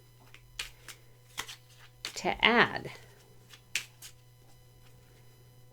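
Tarot cards are shuffled by hand in a few quick, crisp riffling bursts with scattered taps between them, and a brief voice and a steady low hum sit underneath.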